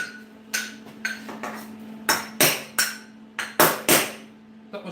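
A hammer gives a series of light, ringing metallic taps on a welded 304 stainless steel band, about a dozen close strikes in an irregular rhythm over a steady low electrical hum.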